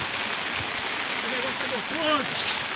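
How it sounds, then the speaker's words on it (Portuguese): Steady rain falls on a cold day in the Sertão of Tanque Novo, Bahia, a constant hiss of drops and running water, with a voice speaking faintly over it. "Não tinha previsão de chuva e tá acontecendo essa bênção aqui hoje."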